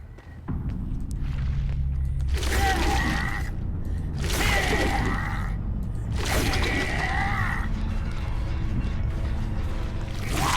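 In the video game Dead by Daylight, a hex totem is destroyed: a series of grinding, crackling mechanical bursts with bright breaking tones comes in three or four surges over a low rumbling game ambience.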